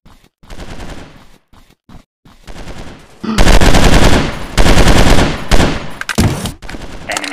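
Rapid automatic gunfire from a mobile shooting game on Android, loud bursts of machine-gun fire stopping and starting in short and long volleys, with gaps of near silence between early bursts.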